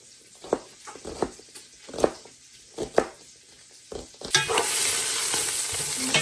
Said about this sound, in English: Cooking that bacon.